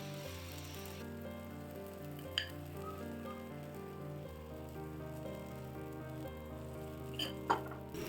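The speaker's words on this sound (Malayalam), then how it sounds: "ഇനി ഇതിൻ്റെ മേലേക്ക് കുറേശ്ശെ മാവ് ഒഴിച്ചു കൊടുക്കാം കേട്ടോ." Dosa batter poured onto a hot pan for small masala dosas, a soft, steady sizzle like light rain, fairly faint, with a couple of brief clinks of a utensil, no voices.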